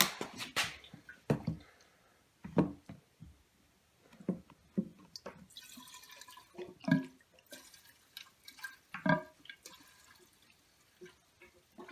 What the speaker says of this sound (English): I'm actually gonna go ahead and throw some gas in the tank